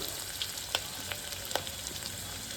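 Chopped onion and green chillies fry in oil for moong dal khichdi, giving a steady soft sizzle with a few faint crackles and pops, no voices.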